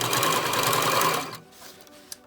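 A sewing machine runs steadily, stitching a fabric face mask with a filter pocket and nose wire, its dense motor whir stopping abruptly midway, followed by quiet and a single small click.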